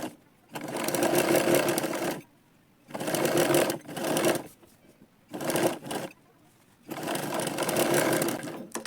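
Sewing machine stitching a katori blouse, running in four close bursts of rapid mechanical whirring separated by short silent pauses.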